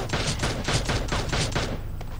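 Rapid bursts of gunfire in the mobile battle-royale game PUBG Mobile, a steady run of loud shots fired in quick succession with no break for about two seconds.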